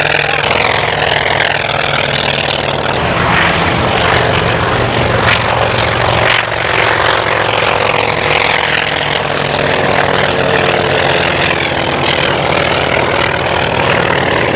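A U-8 Twin Bonanza, a twin-engine propeller plane, flying at an air show drones loudly and steadily for the whole stretch, with broadband engine and prop noise and no talk over it.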